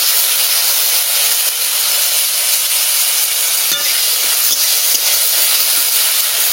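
Dried red chillies and ground spice paste sizzle steadily in a hot pan of oil while making egg masala curry, a constant close hiss with faint stirring clicks and no talk.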